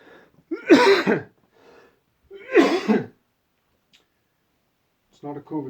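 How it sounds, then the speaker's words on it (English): A smoker gives two loud, rough coughs, close and separated by a short pause, then a voice begins to speak. "It's not a COVID cough. I had something in my throat."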